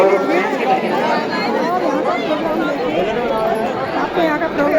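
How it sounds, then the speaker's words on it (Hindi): Dense crowd chatter at the Hill Jatra fair in Kumod, Pithoragarh, a steady close babble of many overlapping voices filling the whole stretch without pause. "देखो कितनी ज़्यादा मात्रा में भीड़ है यहाँ पे"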